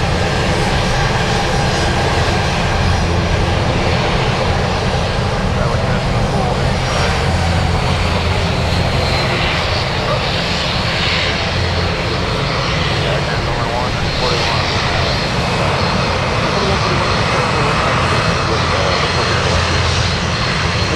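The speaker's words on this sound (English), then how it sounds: "Okay, that one just crossing the runway. I thought it was taking off." At Anchorage airport, a large Boeing jet crosses the runway while taxiing, its engines giving a loud, constant roar and whine that fills the whole stretch, with talk underneath.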